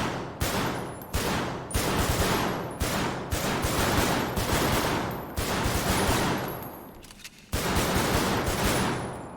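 Rapid bursts of armor-piercing pistol gunfire in FiveM crack out in quick succession, loud and close, with short pauses between volleys and a ringing tail.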